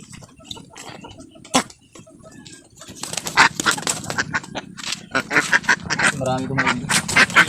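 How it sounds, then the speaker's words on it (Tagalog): A large flock of farm ducks in the Philippine countryside quacking in dense overlapping bursts, sparse at first and then a loud, continuous chorus close by, with someone speaking intermittently. "Marami itong mga itik."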